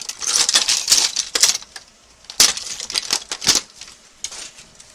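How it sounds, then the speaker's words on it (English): Hand tools work on an Associated Trophy Rat RC short course truck during a motor swap and gear change, giving sharp metallic clicks and ratcheting taps in irregular bursts with brief pauses, close and moderately loud, with no talking. "Does my wrench fit there?"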